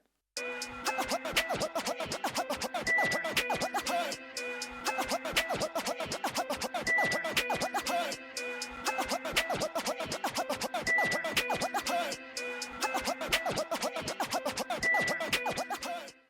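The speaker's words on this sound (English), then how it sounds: "I really like the chirp flare scratch." Rapid, rhythmic DJ chirp-flare scratching repeats in a steady looping pattern over a beat, loud and continuous with brief pauses between phrases.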